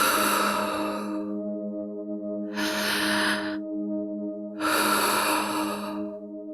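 Someone takes three slow, deep breaths during a guided breathing exercise, each a loud, close airy rush, set against a soft sustained musical drone.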